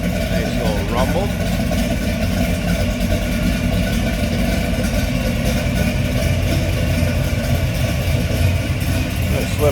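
A 1955 Chevrolet 210 two-door hardtop engine idles with a steady low rumble throughout, close and continuous, with faint voices in the background.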